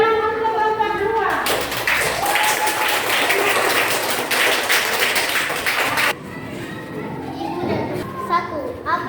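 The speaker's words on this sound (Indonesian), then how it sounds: "Tepuk tangan untuk kelompok 2." A classroom of children claps for a student group amid lively kids' chatter, a dense burst of clapping and voices for several seconds before settling back into talk.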